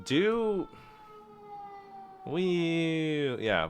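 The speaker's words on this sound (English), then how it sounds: "sorry, there's a siren" A siren wails through the clip, rising and falling in long sweeping tones, loud at the start and end with a steadier, quieter stretch between.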